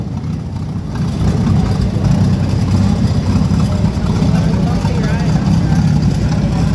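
A McCormick-Deering 1020 tractor engine, rated 10 drawbar and 20 flywheel horsepower, runs with a loud, steady low rumble that continues without a break.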